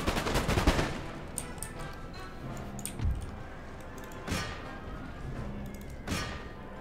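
Musket volleys from infantry lines in Empire Total War, a loud crackling fusillade at the start followed by sparser distant shots and thudding reports spaced a second or so apart.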